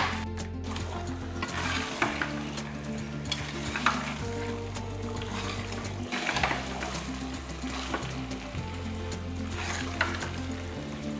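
Steady, loud sizzling and frying of chicken with ground masala in a pan, with occasional stirring scrapes, continuous throughout with no talking.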